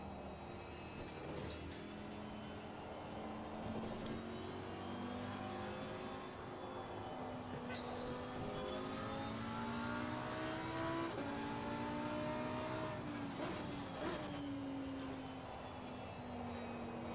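A race car in Assetto Corsa Competizione drives an easy first lap to warm its tyres and brakes, its engine humming steadily and rising and falling in pitch through gear changes, with no talk.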